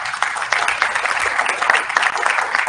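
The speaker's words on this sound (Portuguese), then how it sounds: "para quem eu peço uma salva de palmas" Audience at a talk on nonviolent communication for future legal professionals giving the guest speakers a round of applause, loud, dense clapping from a crowd, steady throughout.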